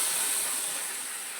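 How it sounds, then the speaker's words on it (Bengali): Dal poured into a hot pan on the stove, giving a steady, loud hissing rush of steam and spatter that fades slightly over a second or so, close by with no voices. "সাঁড়াশিটা নিলাম, তো আমি ডালটা এর মধ্যে ঢেলে দেব।"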